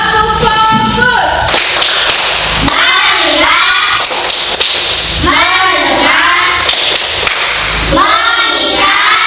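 A classroom of children performs the tepuk fokus clapping routine, loud sharp rhythmic hand claps in patterned bursts, interspersed with children chanting and singing along.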